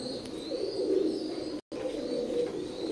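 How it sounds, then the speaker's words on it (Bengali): A pair of young, nearly featherless imported Teddy pigeons of Oman bloodline coo continuously up close, a steady low throaty purr with one brief break midway. "স্ক্রিনে এখন যে কবুতর জোড়া দেখতে পাচ্ছেন, 128-এর এক জোড়া বেবি কবুতর।"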